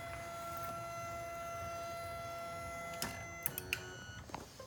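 A K40 laser cutter machine switches on and runs with a steady whine of fans and pumps and faint tonal hum, then clicks and short clunks of mechanical parts close by near the end.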